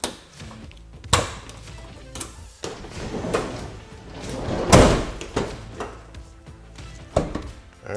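Side doors of a Ford Transit cargo van with Legend SecuriLock locks slam shut in slam-lock mode: several sharp metallic thuds spread across the stretch, the loudest one near the middle, with handling noise between.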